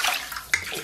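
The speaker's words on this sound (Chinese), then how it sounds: "然后咱们给锅里边稍微来点水" Water splashes briefly into a cooking pot while braising pork elbow is being prepared, a short close slosh with a sharp burst midway, no talk over it.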